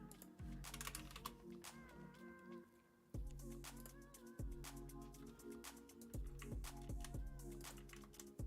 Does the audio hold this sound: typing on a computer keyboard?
yes